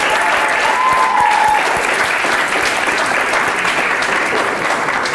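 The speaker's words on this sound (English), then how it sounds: "Give them a big round of applause" A graduation crowd gives steady, dense applause for parents and guardians, a continuous wash of clapping that holds at a loud level throughout, with a faint voice briefly above it.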